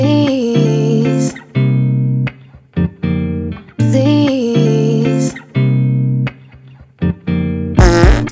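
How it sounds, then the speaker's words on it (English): Cartoon fart sound effects in a Minecraft animation, long buzzy, pitch-bending blasts repeated in two matching loud runs separated by short gaps, ending in a harsh distorted burst. "Your nasty farts are so intense, they knocked down my whole fence."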